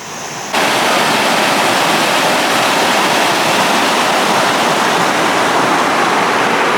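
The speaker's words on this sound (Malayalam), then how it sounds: "ഈ ഒരു സൈഡിലായിട്ട് നല്ല സൗണ്ട് ഉണ്ട് ഇവിടെ നല്ല ഹൈറ്റുള്ള ഏരിയ ആണെന്നാണ് തോന്നുന്നത് വെള്ളം വീഴുന്ന സ്ഥലമേ" Loud, constant roar of a tall waterfall in Wagamon, a dense rushing wash of falling water that fills the whole stretch without pause.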